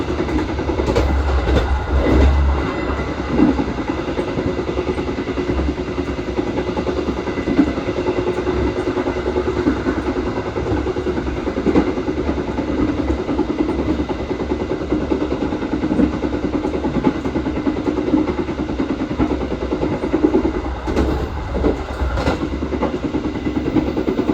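Riding inside a local express passenger train in Indonesia near Pasuruan: a continuous loud rumble of the rail car with rhythmic wheel clatter throughout and no voices.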